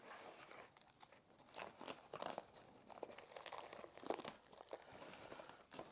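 Packaging around a Porsche PCCM+ head unit for a 997 being unwrapped, with continuous close crinkling and rustling of plastic and foam, scattered sharper crackles, quiet overall and with no voices.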